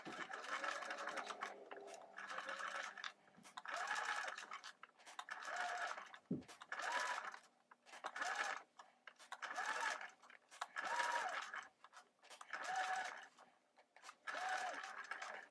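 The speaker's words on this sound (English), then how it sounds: "I have the machine set to a basting stitch, and I'm just going to straight stitch around this curve" A sewing machine runs a basting straight stitch around a curved fabric edge in short bursts with pauses between them, close and fairly soft, with one sharp click partway through.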